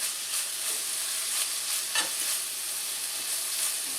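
Vegetables sautéing in a skillet with a constant bright sizzle, a spatula lightly brushing across the top now and then for soft scraping accents, close and steady throughout.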